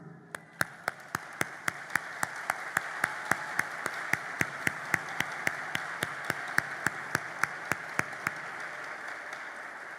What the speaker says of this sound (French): campez pour nous applaudir